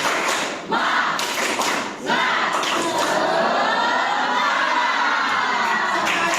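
A class of students claps out a rhythmic spirit clap, sharp group claps and thumps in a quick pattern mixed with loud shouting and cheering voices, all close and energetic.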